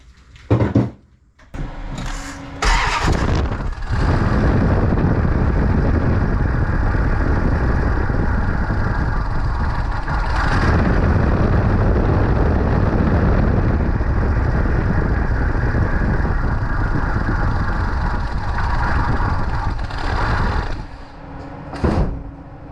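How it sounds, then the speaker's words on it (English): A 1991 Dodge Dakota 5.2L V8 turns over and catches, then settles into a loud, steady rumbling idle with an idling problem, carrying on for nearly twenty seconds before a few clunks. "I'm gonna start the engine, I guess,"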